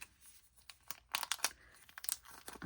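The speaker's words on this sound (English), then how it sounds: "Sorry for the crinkling." A plastic package of fiberfill stuffing crinkles and rustles in quick, irregular bursts, close and quiet, with sharper crackles toward the middle.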